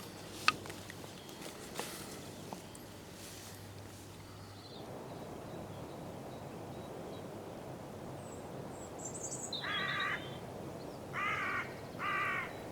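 Faint rustling outdoors, then a hooded crow caws harshly several times in short bursts toward the end, fairly distant.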